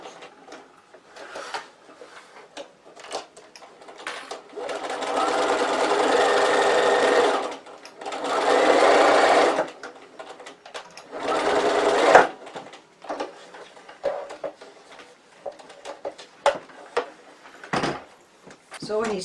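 Domestic sewing machine stitching a half-centimetre seam on fabric for a roll organiser, with a back stitch to lock the stitches: several bursts of steady motor whirring separated by pauses and handling clicks, close and clear.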